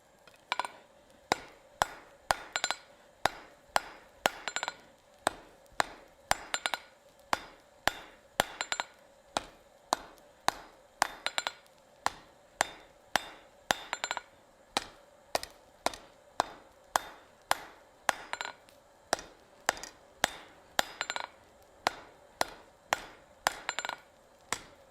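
Hot iron is hammered on an anvil while forging a four-sided taper on a spike: a long run of sharp, ringing metallic blows in an even, quick rhythm, close and clear with no talking.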